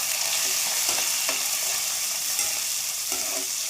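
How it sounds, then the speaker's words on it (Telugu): Chopped onions hit a pan of already-fried whole spices for a mushroom masala curry, giving a steady close sizzle with soft stirring scrapes throughout. "ఇప్పుడు ఆల్రెడీ కట్ చేసుకొని పెట్టుకున్న ఆనియన్స్ వేస్తున్నా"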